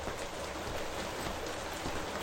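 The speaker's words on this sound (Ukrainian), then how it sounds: "там просто злива на вулиці якась" Dense, steady hiss of heavy rain pouring outside, constant and enveloping with no voices.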